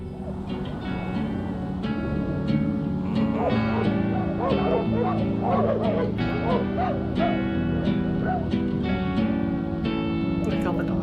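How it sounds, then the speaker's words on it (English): Several dogs bark and yip over and over in the video game Despelote, mixed with whimpers over a constant bed of background music, while a person talks throughout. "Look at all the dogs."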